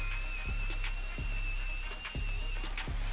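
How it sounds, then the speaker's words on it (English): A rotary tool spins a cutting disc against a model figure's head, a steady high-pitched whine with faint tonal overtones, interrupted by brief rhythmic scraping bursts as the disc bites into the material, loud and close. "I'll use a cutting disc to cut away some of the backside of the head"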